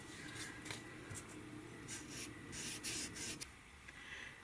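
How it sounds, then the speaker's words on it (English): A marker rubbing along the edge of a board in quick, faint scratchy strokes, close and alone, with a few sharper squeaks. "I'll take my marker along the entire edge."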